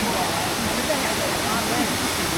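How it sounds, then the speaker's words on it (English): Champagne Falls waterfall near Tully, Australia, gives a steady broadband roar of falling water, constant and fairly loud throughout. "this is the waterfall here"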